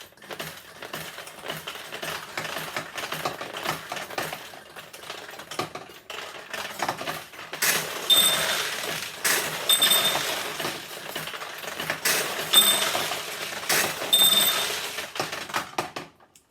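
A 1975 Nishijin Model B vintage pachinko machine plays with a steady clattering rush of steel balls, dense metallic ticking and chiming, and brief bright bell tones. The sound is continuous and close, with no voices.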